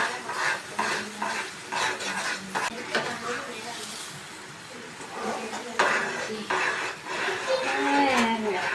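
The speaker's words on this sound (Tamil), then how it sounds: "நெய் சேர்த்து நல்லா கலந்து விட்டுக்கலாம்" A spoon stirs kesari sweet with ghee in a pan, giving irregular scraping and clinking against the metal with a faint sizzle underneath, close and moderately loud, with some talk in the background.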